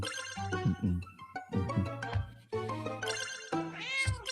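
Cartoon cats meow repeatedly in the video game Boop, several bright close meows overlapping one another in quick succession throughout, with one drawn-out wavering call near the end.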